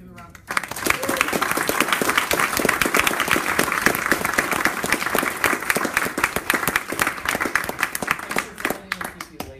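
An audience gives a round of applause for a speaker at the end of a talk, a dense, loud burst of clapping that starts abruptly and holds steady for several seconds before fading out.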